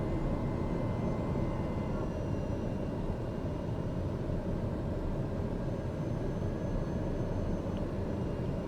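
Aircraft engine in a flight simulator on final approach into Yakima, Washington, a steady loud broadband roar with a low rumble as throttle is added, continuous and unbroken.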